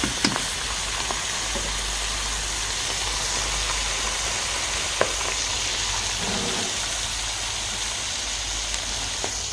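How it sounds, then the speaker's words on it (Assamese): Fish frying in a pan, a steady broad sizzle running throughout at moderate level, with a few faint utensil taps and no talking. "প্ৰথমতে এতিয়া মাছ ভাজি"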